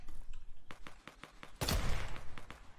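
Bursts of Fortnite gunfire, a quick run of sharp shots followed by a heavier loud blast and more rapid firing, close and without speech.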